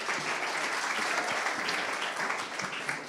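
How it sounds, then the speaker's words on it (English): Audience applause at a sales leaders awards event as a speaker is invited to the stage, a dense, even patter of clapping that continues steadily throughout. "Round of applause."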